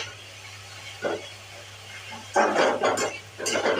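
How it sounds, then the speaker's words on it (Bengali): Fenugreek greens fry in a pan with five-spice, salt and turmeric: a faint sizzle under a few short bursts of stirring and scraping, nearby and moderately loud. "এবার ভাজছি আমি শাক"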